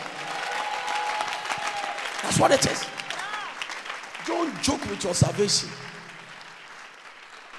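Congregation clapping for the Lord at a church service, a soft, continuous patter of many hands running under a preacher who keeps talking over it, the clapping fading slightly toward the end.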